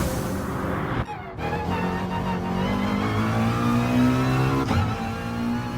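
McLaren race car in Gran Turismo Sport pulling out of the pits at Brands Hatch, its engine loud and steady as it revs up through the gears, with a brief dip in the sound partway through.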